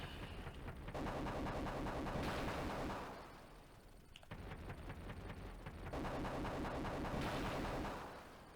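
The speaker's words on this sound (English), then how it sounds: "these MiGs go down quite easily to the chain gun" A helicopter's chain gun in the 1992 Mega Drive game Desert Strike fires at MiGs in loud sustained rattling bursts over a constant low rotor drone, with three main stretches of firing and brief lulls between.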